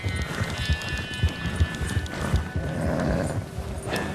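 A horse trudges through deep snow in Red Dead Redemption 2, with a run of regular muffled hoof thumps, close and fairly loud over a soft crunching wash.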